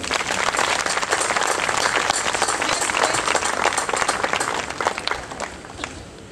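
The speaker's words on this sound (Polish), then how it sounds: "Wielkie brawa i podziękowania." A crowd at a festival opening in Kamień Pomorski applauds loudly, with sharp individual claps standing out from the dense ovation before it fades near the end.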